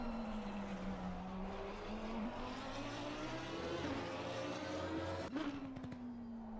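Lamborghini race car in a racing video game at Spa-Francorchamps, engine holding a steady high drone with a brief shift or tire chirp near the end, heard at moderate level with faint commentary underneath.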